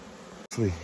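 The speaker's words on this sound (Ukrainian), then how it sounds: "бджола чітко заходить у вулик" Close, steady insect buzzing of honeybees entering a hive after a swarm is caught, a low droning hum that swells louder toward the end, with no voices.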